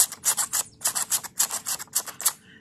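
A sandpaper-edged pick scrapes across the strings of a handmade ukulele, giving a series of close, raspy strokes in an uneven rhythm of about a dozen quick rubs, with no talking.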